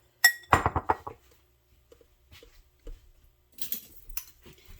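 Chopped nuts for a coffee cake crumb topping tumble into a bowl with a quick clatter of clinks, followed by softer scattered taps and a few brief rustling pours, close and fairly quiet.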